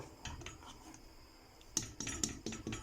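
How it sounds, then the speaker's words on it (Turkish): A whisk clinks and scrapes against a metal pot of magnolia pudding in quick irregular strokes, close up, with faint kitchen background noise. "Çırpıcıyla karıştırıyoruz."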